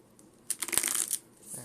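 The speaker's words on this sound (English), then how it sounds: "So that was a bad shuffle, let me redo that." Reshuffling a Pokemon TCG card deck: a short burst of close, crisp riffling card flutter lasting under a second, followed by a faint voice.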